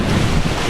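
Waves crashing in at Wilson Harbor on a windy summer day, with a loud, steady wash of surf and wind rumble close to the microphone and no break through the short stretch.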